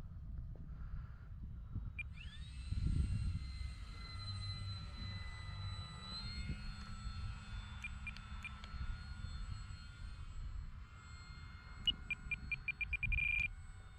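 An RC airplane flying in to land on a windy runway, its engine giving a thin high whine that rises and holds steady, fairly distant and faint over low wind rumble and handling noise, no talk.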